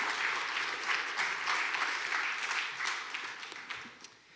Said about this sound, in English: Let's warm up applause to our very own senior pastor.